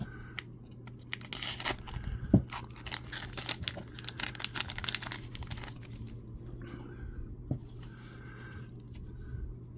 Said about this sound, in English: I'm just going to cut them all open.